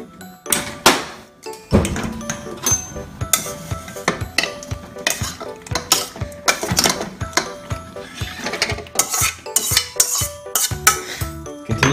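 Pasta being stirred into melted cheese in a pot for macaroni and cheese, with a spoon scraping and clacking against the pot in quick irregular strokes, close and fairly loud, alone without talk.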